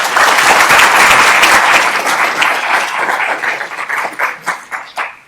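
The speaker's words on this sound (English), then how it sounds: "We'll clap." Audience applause at an international honorary award reception, loud, dense clapping from a room full of people that thins toward the end into a few separate claps.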